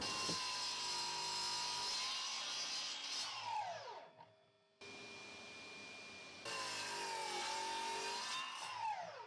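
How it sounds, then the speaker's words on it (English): A miter saw cuts wood at a 15-degree angle, heard as two loud sustained whining cuts with the motor spinning down in between. "I'm just going to work to a line that I mark up on the miter saw"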